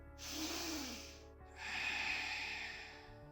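A deep, drawn-out breath during a yoga session: a long airy inhale, a brief pause, then a second long breath, close and fairly quiet with no talking.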